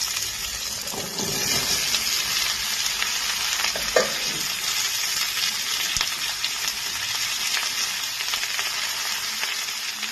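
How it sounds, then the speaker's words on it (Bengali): Vegetables sizzle loudly in hot oil with tempered spices for a vegetarian curry, with a steady frying hiss broken by occasional scraping stirs of a spoon in the pan. "ফোড়নটা আমার ভাজা হয়ে গেছে এবার আমি সবজিগুলোকে দিয়ে দেবো"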